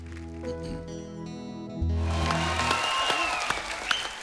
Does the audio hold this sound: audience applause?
yes